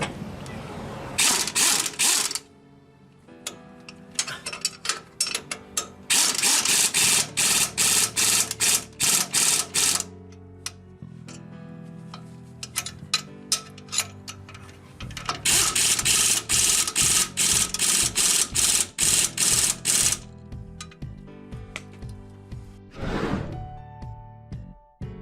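A pneumatic impact gun hammers on a nut holding the lower control arm of a 1994 2WD Toyota pickup, loud rattling bursts of several seconds each separated by pauses and softer clanks of tools.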